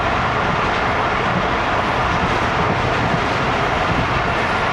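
The Jaffar Express of Pakistan Railways runs at speed, a loud, dense, continuous rush of rumble and wheel-on-rail roar that fills the whole stretch without a break.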